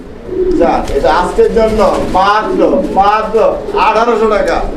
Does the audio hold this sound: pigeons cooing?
yes